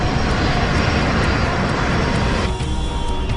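An airliner's engines on a steep descent toward the runway produce a loud, steady roar from inside the aircraft, with a broad, constant hum and no voices.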